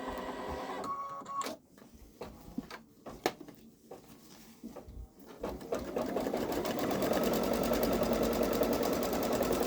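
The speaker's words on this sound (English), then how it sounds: "So I'm going to go ahead and start the stitching." A Babylock Solaris 3 sewing machine stitches edge-to-edge quilting on a sweatshirt, starting with a few short bursts and then settling into a steady, loud, continuous whirring run that carries on to the end.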